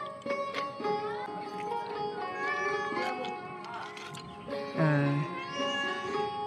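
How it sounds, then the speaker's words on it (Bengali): A cat meows repeatedly nearby, with drawn-out tonal cries and one louder, wailing call, while fish is being shown. "ম্যামা করিস না"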